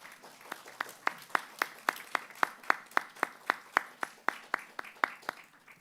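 At a Teesside University London graduation ceremony, graduates clap in a quiet, evenly spaced rhythm of about four sharp claps a second, thin and somewhat distant rather than a full roar.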